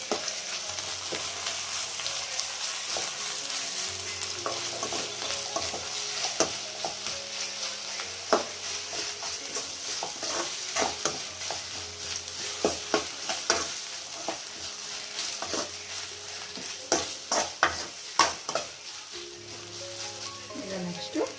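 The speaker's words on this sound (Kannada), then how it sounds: "ಒಂದು ಅರ್ಧ ಟೇಬಲ್ ಸ್ಪೂನಷ್ಟು ಶುಂಠಿ ಬೆಳ್ಳುಳ್ಳಿ ಪೇಸ್ಟ್ ಸೇರಿಸ್ತಾ ಇದ್ದೀನಿ. ಇದನ್ನೊಂಚೂರು ಫ್ರೈ ಮಾಡ್ಕೊಳ್ಳೋಣ" Half a tablespoon of ginger garlic paste fries in a pan for paneer fried rice, a steady soft sizzle broken by frequent scraping stirs and clinks, with a voice speaking over it.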